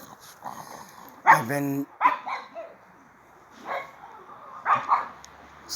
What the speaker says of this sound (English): the dog's flipping out in the backyard here